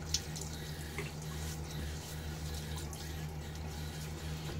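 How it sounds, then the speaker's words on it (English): Tap water running into a bathroom sink while a face is splashed, a steady faint trickle with a few soft splashes, no talk. "Splash my face with some water."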